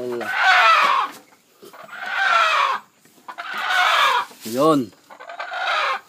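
A native chicken clucks in bursts while people talk over and between the calls, with one short rising squawk near the end, close and fairly loud.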